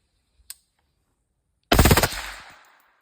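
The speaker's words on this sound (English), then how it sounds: "I'm gonna go ahead and run out the rest of this mag." A rifle fitted with a Rare Breed FRT trigger fires a rapid burst of about half a dozen shots that blur into a loud, close roar and then echo away, preceded by a faint click.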